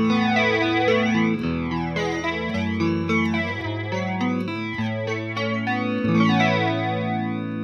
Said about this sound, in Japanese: これにフランジャーをかけると